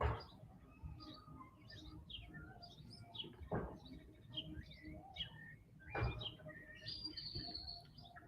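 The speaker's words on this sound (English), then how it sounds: "just listening to the birds" Scattered bird chirps and short calls repeat over a low outdoor background, with a few brief louder thumps in between.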